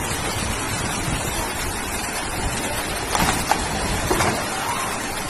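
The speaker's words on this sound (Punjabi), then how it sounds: "ਇੱਥੇ ਲਗਾਤਾਰ ਬਾਰਿਸ਼ ਹੋ ਰਹੀ ਹੈ" Heavy rain lashes flooded Hyderabad in a loud, continuous roar of water and wind with a few splashing surges, and no voices.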